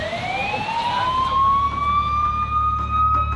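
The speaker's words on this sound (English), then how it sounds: "The ambulance is coming and you'll go for a ride in the ambulance" An ambulance siren wails loudly and steadily at a beach, its rising, sliding tone sustained throughout over a low rumble of traffic or surf, with no talk.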